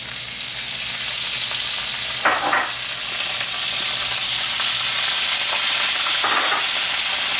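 Chicken cutlets and sun-dried tomatoes sizzle loudly in a frying pan, a continuous hissing crackle with a couple of brief stirring scrapes, no voices.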